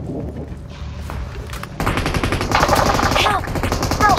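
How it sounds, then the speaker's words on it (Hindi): Rapid automatic gunfire in the mobile battle royale game BGMI (Battlegrounds Mobile India), with sustained bursts of shots that grow louder and denser halfway through, close and dominant. "अब ये बंदा अन्नू के पिछवाड़े में 150 की 150 गोली भर देता है"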